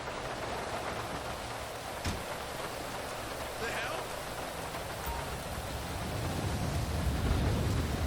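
Rain in the GTA 5 video game makes a dense, steady hiss of falling water with a single sharp tap, swelling slightly louder toward the end.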